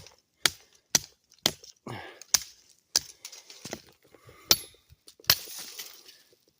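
A Bill Kennedy Bowie knife chopping hemlock wood, about a dozen sharp, loud blows at an irregular rhythm, each a crisp crack with brief splintery rustle between strikes.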